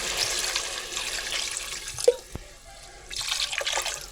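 Water splashes and trickles into a pot of mutton curry, a steady pour that pauses briefly midway with a couple of clunks before resuming.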